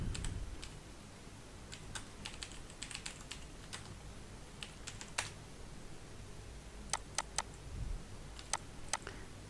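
Text being typed on a computer keyboard for a CorelDRAW lesson, faint scattered key clicks in short irregular bursts over a quiet room hiss.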